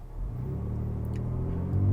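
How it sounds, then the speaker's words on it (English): The 2024 Ford Ranger Raptor pickup truck pulls away with a steady low engine rumble that builds slightly toward the end, with no talking over it. "So here we are setting off in the 2024 Ranger Raptor"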